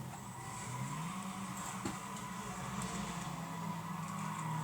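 Race car engine in the PC racing game Need for Speed Most Wanted, with the player driving a Golf; a steady droning engine note rises and holds across the whole stretch, quiet and continuous, without talk.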